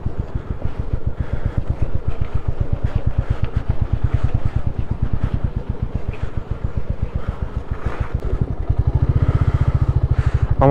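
A motorcycle descends a rocky North Sikkim mountain road toward Gurudongmar in first gear, its engine thudding loud and close in a steady rapid pulse with clattering over stones, rising to a denser rumble near the end.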